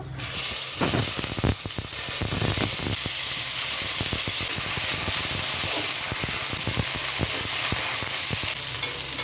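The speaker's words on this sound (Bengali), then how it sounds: "এবার এই একই তেলে আমি বেগুনগুলো হালকা একটু ফ্রাই করে নেবো।" Eggplant pieces fry lightly in oil for Kashmiri mixed vegetables, a loud, close, steady sizzle with scattered clicks and scrapes of stirring and no voices.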